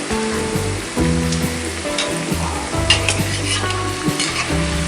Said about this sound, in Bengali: আলুগুলোকে আমি লাল লাল করে ভেজে দিচ্ছি।